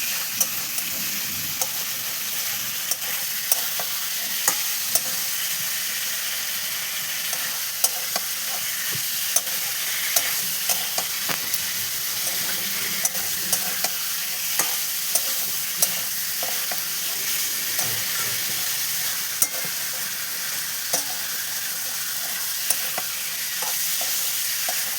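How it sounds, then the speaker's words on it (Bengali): Masala sizzles and fries in a pan with pointed gourd and shrimp, a constant close hiss broken by frequent light scraping and clinking as the mixture is stirred, with no voices. "নাড়িয়ে চাড়িয়ে নিচ্ছি মশলাটাকে। মশলাটা পটলের সাথে ভালো করে মিশে গেছে।"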